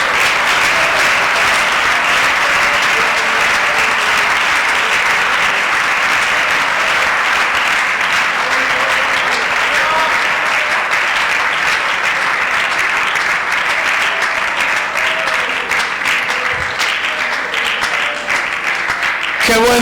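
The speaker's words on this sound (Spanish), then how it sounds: "Aplauda la gloria de Dios." Church congregation applauding loudly and continuously for about twenty seconds, a dense, steady wash of many hands close by with faint voices mixed in.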